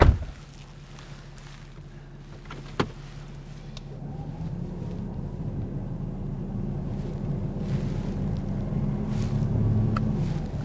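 X-Bull 13000 lb winch reeling in wet rope outdoors, a steady low mechanical drone that gradually swells louder, with a single sharp click early on and some wind rumble, no talking.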